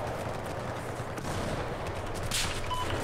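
Gunfire from the Battlefield 4 shooter on PC, a steady loud barrage of dense shots blending into a continuous roar with no gaps, heard alone without talk.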